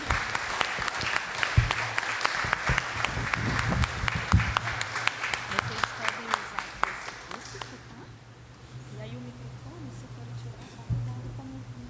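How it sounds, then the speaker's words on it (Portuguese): A crowd applauds at a formal solemn session honoring Cônego José Bento's bicentenary, a dense burst of clapping that fades out after about eight seconds, leaving quieter room murmur with faint voices and a brief noise near the end. "Uma salva de palmas, pessoal."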